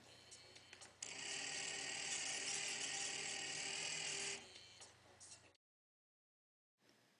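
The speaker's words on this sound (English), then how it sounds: "I kind of want a slow speed for my conveyor belt, so I'm going to play with it and test it out here." Small servo-driven robot conveyor belt motors whir in a steady mechanical hum at slow speed for several seconds, then wind down into fainter irregular whirring and stop, with a brief restart at the end.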